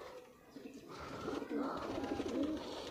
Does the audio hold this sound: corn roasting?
no